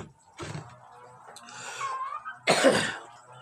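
A person coughs sharply twice, with a quieter throaty sound between the two bursts; the coughs are close and fairly loud.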